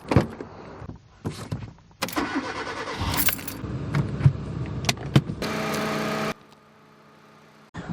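A Hyundai Getz car with its engine started and running, used to jump start an Audi S4; a sequence of mechanical whirs, clicks and engine turnover sounds up close, dropping to a faint low idle hum near the end.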